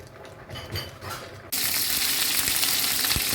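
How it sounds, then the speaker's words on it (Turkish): Peppers fry in half a tea glass of oil in a pan: a muffled bubbling start gives way to a sudden loud, steady sizzle that hisses on close up without any voices. "Biberlerimi e, tavaya koyduğum bir, e, yarım çay bardağı sıvı yağında bu şekilde kızartıyorum"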